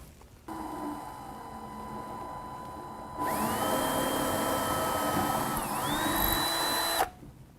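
Pilot holes bored into a cabinet with a 1/8-inch bit while fitting an anti-tip bracket for a freestanding range: a steady, close drill whine that climbs in pitch and runs for several seconds before cutting off.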